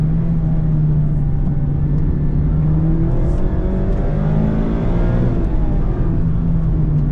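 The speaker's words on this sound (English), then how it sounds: "Mazda says it has made some revisions for the 2024 model to get more of the engine sound into the cabin" 2024 Mazda MX-5 GT RS with manual gearbox, engine heard from inside the cabin: a steady droning hum that rises in pitch as the car accelerates, with constant road noise and no talking.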